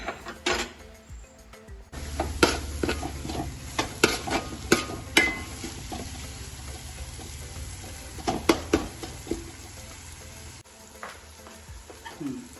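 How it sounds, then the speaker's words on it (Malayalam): Chicken curry masala paste stirred in a pan, a steady sizzle with repeated wooden scrapes and knocks of the spoon against the pan, close and fairly loud, no talking. "നന്നായി ഇളക്കിയിട്ട് അത് മൂടി എടുക്കുക അരപ്പെല്ലാം ഒന്ന് വാടുന്നോടം വരെ"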